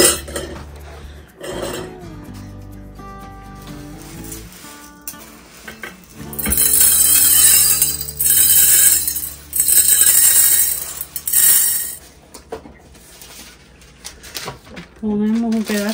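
Glass jars holding a homemade lentil soup mix clink and knock as they are handled, with bursts of rattling and scraping while someone speaks between them.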